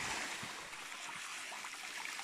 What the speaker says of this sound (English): Fresh water from the waterfall.